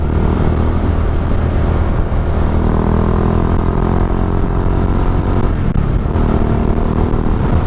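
Steady loud Bajaj Dominar motorcycle engine drone while riding just after rain, with wind and road rumble continuous throughout, no talking.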